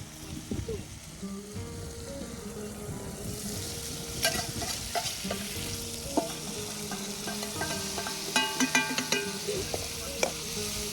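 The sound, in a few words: spice mix stirred and sizzling with onions in pan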